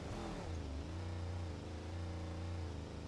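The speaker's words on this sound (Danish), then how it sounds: "Kan du høre min motor egentlig?" A car engine in the driving game BeamNG revs steadily, a continuous throaty mid-pitched drone rising and settling slightly, loud and close, with no voices.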